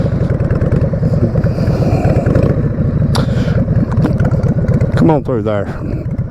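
A Sportster motorcycle with about 25,000 miles rumbles close by in a steady, loud idle throughout, with someone speaking briefly over it.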